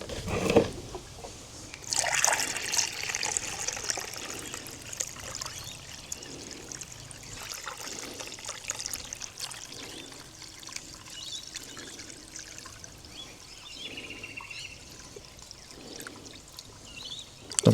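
Water poured from a pipe into the block of an old Perkins turbo diesel engine, with the radiator hoses blocked off: a steady soft trickle and splash running on for many seconds, fairly quiet, with occasional louder sloshes.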